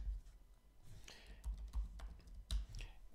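Keys clack on a computer keyboard as a terminal command is typed, a short run of soft, irregular taps at close range with no talking.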